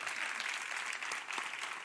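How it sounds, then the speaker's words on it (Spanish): A church congregation claps together during a Spanish-language sermon, with steady, dense applause filling the room for the whole short stretch. "si quiere aplaudir, aplauda, por favor"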